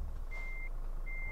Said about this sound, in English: Right, reversing.